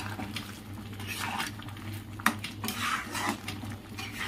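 A metal pot of ghugni is lifted off a kitchen stove with clanks and scrapes of metal on metal, and a sharp knock partway through. The sounds are close and fairly loud.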